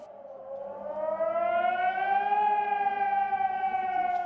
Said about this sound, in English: air raid sirens were heard for more than 3 hours